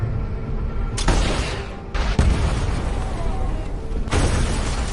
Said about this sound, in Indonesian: sebuah serangan RPG sukses membuat satu mobil pengawal Donovan meledak